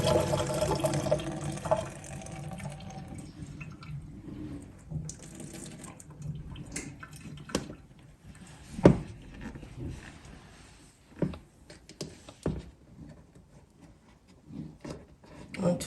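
Water poured off while cooking suya, a continuous splashing and trickling into a container, with scattered drips and clinks near the end.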